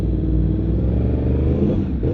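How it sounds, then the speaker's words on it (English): A loud sport motorcycle engine with a crossplane-style rumble idles close by, its deep, steady throb continuous throughout. "Jesus Christ, your bike is so loud, bro."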